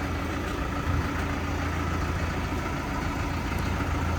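A new Basak 2110S tractor engine runs steadily during unloading from transport, a continuous low rumble with a steady idle-like drone and no voices.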